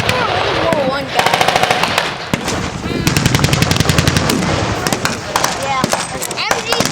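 An MG34 machine gun at a World War II reenactment battle fires loud, rapid bursts mixed with other gunshots, echoing outdoors with voices in the background.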